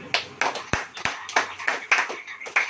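Congregation clapping hands during a Hindi church sermon, a series of sharp, fairly close claps in an uneven rhythm, some louder than others, with faint voices in the room.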